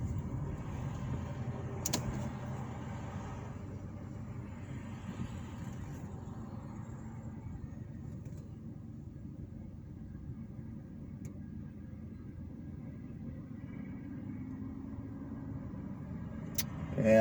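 A car drives steadily along roads around Cicero, Indiana, heard from inside as a continuous low engine and road rumble with tire noise, at an even level throughout and no clear voices.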